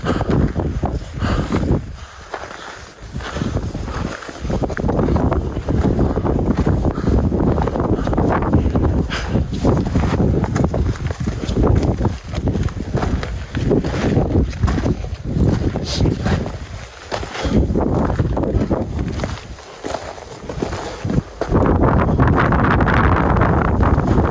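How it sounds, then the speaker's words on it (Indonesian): Strong wind roars without a break on Mount Slamet in a storm, buffeting the microphone in loud, dense gusts that swell and ease but never stop. "Gede anginnya weh"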